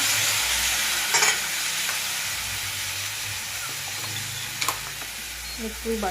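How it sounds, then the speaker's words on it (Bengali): Ground spice paste hitting hot oil in a pan for a cauliflower, potato and fish curry, a steady hissing sizzle with a few stirring clatters, close and continuous. "এবার আমি বেটে রাখা মশলাটা অ্যাড করে দেবো এখানে"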